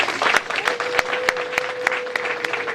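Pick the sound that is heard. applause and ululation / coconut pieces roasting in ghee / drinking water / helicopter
applause and ululation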